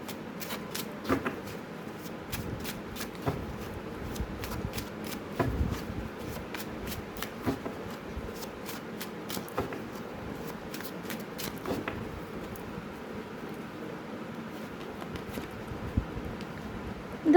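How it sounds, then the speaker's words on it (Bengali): Tarot cards are shuffled by hand in a rapid, uneven series of soft riffling flicks and slaps, close and quiet, going on throughout without speech. "অনেকগুলো কার্ড বেরিয়ে যাচ্ছে, আমি শাফল করেই নেব।"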